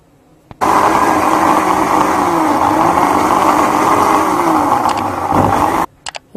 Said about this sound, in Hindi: पहले मैं इसे ब्लेंड करूंगी।